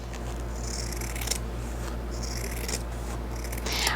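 Scissors snip through fabric for a quilted zip pouch, several soft close cuts running over a steady low hum, with no one talking.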